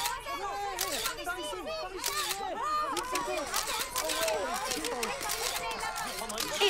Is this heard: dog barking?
no